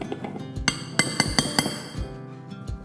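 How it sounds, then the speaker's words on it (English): Ripe peeled bananas being mashed in a bowl with a potato masher, heard as a series of sharp clinking knocks of the masher striking the bowl, roughly one every few tenths of a second, close and fairly loud. "mash them into a smooth puree using a potato masher"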